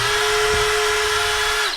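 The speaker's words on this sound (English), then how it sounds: "Then you can go back and drill your other holes." A power drill bores holes for mounts, running loud at a steady high whine that holds for nearly two seconds before spinning down at the end.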